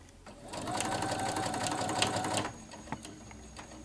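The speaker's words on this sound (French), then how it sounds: "Je couds toujours dans le sillon." A sewing machine stitches a bath robe, running in one steady, fast whir for about two seconds and then stopping, followed by faint handling noises.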